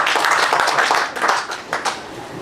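A short burst of applause, many hands clapping together in a dense, steady patter that fades slightly toward the end.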